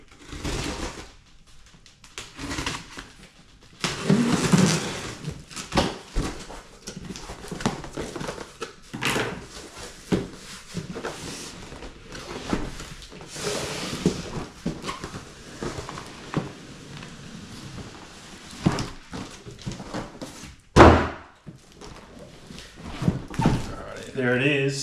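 HoverX Phantom hoverboard box being opened, with cardboard thumps, rustling and handling knocks, a heavy thud near the end, and a voice at times.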